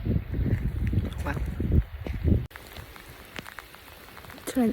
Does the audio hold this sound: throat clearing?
no